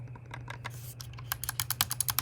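A MOJO Pro Performance silent gaming mouse is clicked repeatedly, producing soft, muted taps that speed into a quick run of clicks over a low steady hum.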